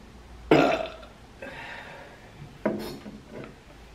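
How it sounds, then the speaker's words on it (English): Two loud, close burps from a person eating homemade chicken pad thai, each a short guttural blast with a trailing rumble, separated by a pause and followed by softer gurgling. "I got a burp coming."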